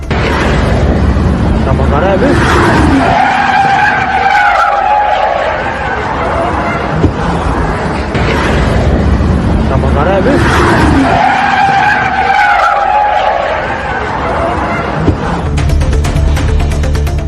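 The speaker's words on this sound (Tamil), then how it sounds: "சாலையின் வலதுபுறத்தில் இருந்த தடுப்பில் மோதி சறுக்கிக் கொண்டு சென்ற அந்த கார் இடதுபுறமாக சென்று தடுப்பில் மோதி விபத்துக்குள்ளானது" A car skids along a road, scraping into the right-side barrier and then veering into the left barrier in a crash. Loud, sustained tire screech and grinding noise swell in two long waves.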